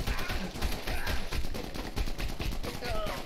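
Rapid gunfire in The Punisher video game crackles as a dense, continuous burst of shots under a busy mix of game sound, fairly faint and steady throughout.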